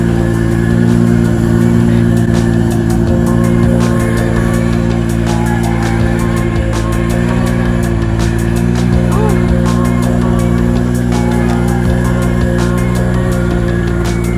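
Jeep JL Rubicon engine working hard while stuck and winching, a steady loud mid-pitched roar with sharp clicks and knocks scattered over it, held close for the whole stretch.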